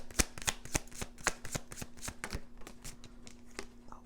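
Tarot cards being shuffled by hand, a rapid series of crisp riffling snaps and slaps in an uneven rhythm, close and fairly quiet over a faint steady hum, with no talking.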